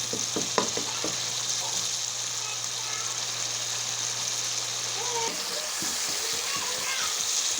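Tomato masala for fish curry frying in a pan, a continuous soft sizzle with occasional stirring clatter and a low steady hum for the first five seconds.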